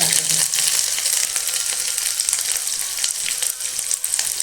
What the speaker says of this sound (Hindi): हम तड़के में ये जीरा, धनिया और मेथी डाल देते हैं पहले।